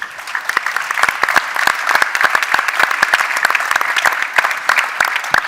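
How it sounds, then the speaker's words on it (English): Audience at a startup pitch event applauds the contestants, a lively, moderately loud clatter of many hands with distinct individual claps standing out, sustained evenly from start to end. "also a round of applause for our other contestants today"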